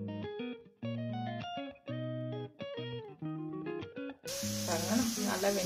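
Onion pakoda sizzles in hot oil, a bright crackling hiss that starts after a stretch of background music and continues to the end, fairly close.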